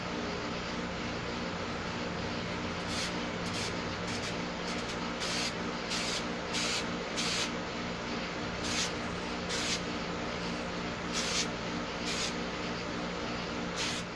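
Aerosol paint being sprayed onto a MacBook Pro laptop: a steady, even hiss of spray running continuously at moderate level, with a few brief breaks and no talking.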